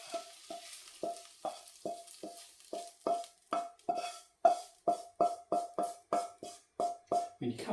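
Onions are stirred into a frying Chinese chicken curry. A spoon scrapes the pan in rapid, regular strokes over a soft sizzle, close and clear.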